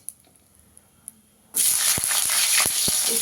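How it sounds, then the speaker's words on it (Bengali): Pieces of bitter gourd drop into hot oil after a quiet moment, and a loud, close sizzle then holds steady, broken by a few sharp crackles and pops. "এই তেলে আমি এবার উচ্ছেগুলো ভেজে নেবো আগে"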